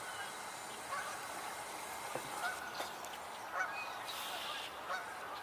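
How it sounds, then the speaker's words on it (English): Canada geese honk as they fly in toward an outdoor tour site, faint, scattered calls from a distance over a steady background hiss, several short honks spaced through the stretch. "I hear more Canada geese coming in."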